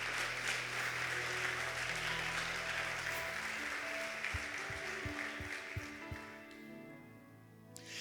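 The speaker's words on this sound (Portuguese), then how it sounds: "Pode aplaudir a Jesus, porque é a palavra dele." Church audience applauds in a sustained, fairly distant wash of clapping over a low instrumental drone and keyboard notes, the clapping thinning out near the end.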